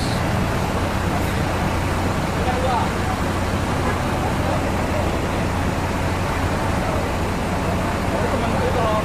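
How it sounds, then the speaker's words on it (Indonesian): An ANS intercity bus from Padang pulls into a busy roadside stop, its engine rumble blending into a steady wash of loud traffic noise for the whole stretch, with no clear separate arrival cue. "Akan beriring-iringan satu lagi bis masuk jam 3:04 bis ANS."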